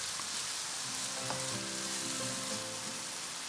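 Sauce sizzles hard in a wok over high heat for kung pao chicken, a dense, even hiss with faint tonal scraping running through the middle.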